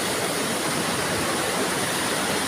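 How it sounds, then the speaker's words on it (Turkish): A small waterfall runs inside Kaklık Cave, a dense, unbroken rush of splashing water heard close and alone with no voices. "Bakın bu da küçük şelale."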